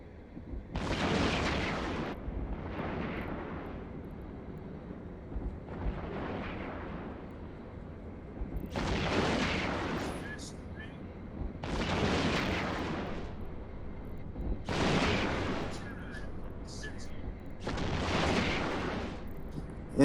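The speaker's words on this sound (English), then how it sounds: "Is rat shooting at you again?" NPC rat ships firing on the player's ship in EVE Online, a series of about seven heavy booming blasts spaced a couple of seconds apart over a low rumbling hum, with no talking.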